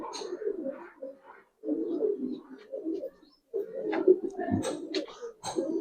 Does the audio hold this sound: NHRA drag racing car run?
no